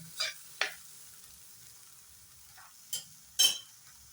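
A utensil stirs an egg mixture frying in a pan over low heat for egg pasta, four short scraping strokes with pauses between them, near and fairly quiet.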